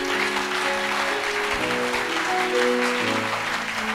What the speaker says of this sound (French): Put your hand together.